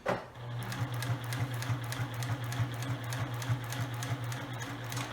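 A sewing machine runs fast as it stitches fabric for a storage box, a steady close mechanical whir with a rapid, even needle chatter throughout and no talking.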